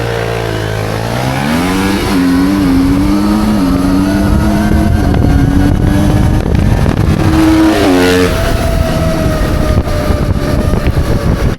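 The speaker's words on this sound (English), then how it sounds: "this is a gas bike. It's a 250, modern 250 4-stroke, 40 horsepower Talaria Komodo." Talaria Komodo 250 four-stroke gas motorbike, 40 horsepower, launching hard and accelerating nearby, its engine note climbing through several gear shifts in a loud, continuous rising whine.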